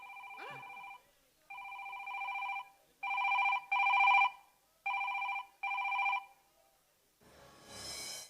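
A telephone rings in repeated electronic bursts during a Kannada company stage drama, six trill-like rings separated by short gaps, loud and close, with no talk over them.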